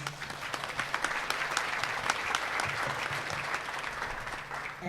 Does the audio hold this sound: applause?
yes